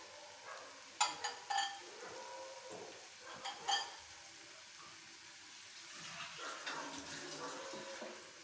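Eggs frying for egg bhurji in a pan, giving a soft, hissing sizzle that swells and fades, broken by a few brief sharp spatters and stirring clatters near the start.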